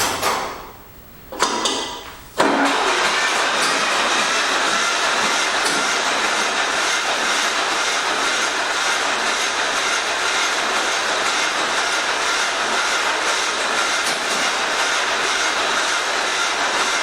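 Engine of a late-1947 John Deere B tractor with leaks being fixed: a couple of short bursts, then a loud, steady mechanical roar and rattle that carries on close to the microphone for about fifteen seconds.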